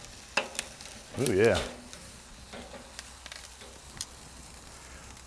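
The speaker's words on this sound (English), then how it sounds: "wanted to get some good searing happening there" Wagyu ribeye steaks sear on an SNS Master Kettle grill, a quiet background sizzle broken by a short, louder burst of crackling and hissing, with someone briefly speaking.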